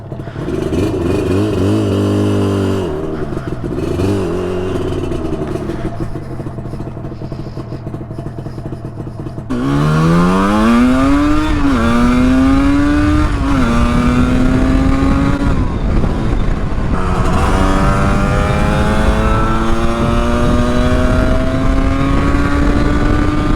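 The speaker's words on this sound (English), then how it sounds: "That is the first little blast out on the RD350." A 1981 Yamaha RD350 LC two-stroke motorcycle idles with a rough, uneven burble, then is ridden off, its engine rising in sharp revving pulls through the gears, loud and close, with no talking.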